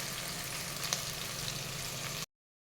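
Vegetables fry in hot oil for Telangana-style bagara rice, a steady close sizzle that holds even and fairly quiet with a small pop partway through before stopping abruptly.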